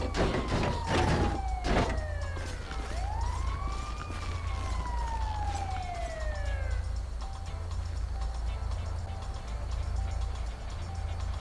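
A wailing ambulance siren in the video game LSPDFR sweeps up and down over a constant engine rumble, sounding synthetic and steady throughout.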